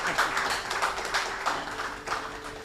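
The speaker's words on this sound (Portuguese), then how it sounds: "Por favor, os vossos aplausos" An audience at a business talk event applauds steadily, a dense patter of many hands clapping at a moderate distance, continuous and without talk.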